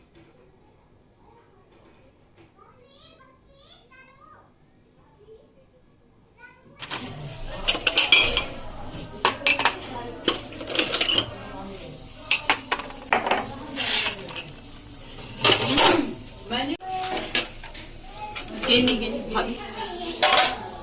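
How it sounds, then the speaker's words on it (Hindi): Washed steel dishes and utensils clattering and clinking as they are stacked onto a kitchen counter, with repeated sharp metallic knocks and scrapes close by, while someone talks over them. "इसी तरह से मैं बर्तन रखती जाऊंगी उस साइड पे"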